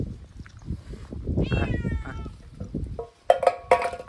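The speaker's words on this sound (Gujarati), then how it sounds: "ફાઇનલી અહીંયા બિલાડી એક જોવા મળી જશે આપણને" A cat at a temple meows in a few drawn-out, wavering cries, followed by sharper, brighter meows near the end, fairly close against quiet background noise.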